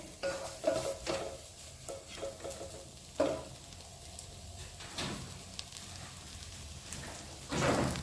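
Kothu porotta is mixed in a pan with curry leaves, giving soft, faint scraping and stirring strokes over a low sizzle, with a louder clatter near the end.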